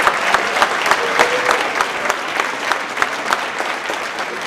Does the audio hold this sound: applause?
yes